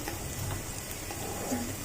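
Sabudana (tapioca pearl) vegetarian pulao frying in a pan, a soft, steady sizzle with faint stirring scrapes, close and quiet, with no talk.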